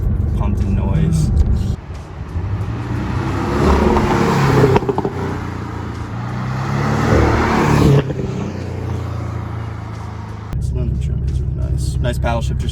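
The turbocharged engine of a 2019 Porsche Boxster GTS accelerates, heard from inside the cabin as a rising rumble that drops briefly between gears, under steady talk from the driver.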